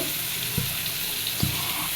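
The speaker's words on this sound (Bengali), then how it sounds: "আমি লবণ হলুদ দিয়ে মিষ্টি কুমড়াটা ভালো মতো ভেজে নিচ্ছি" Sweet pumpkin fries in a pan with salt and turmeric, giving a steady, soft sizzling hiss with a couple of faint utensil taps.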